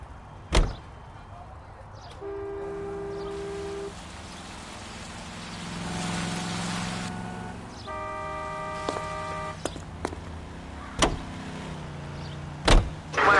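Driving a car in the video game L.A. Noire: a low engine drone runs beneath thuds of car doors, tonal game chimes and a sharp horn-like blast near the end.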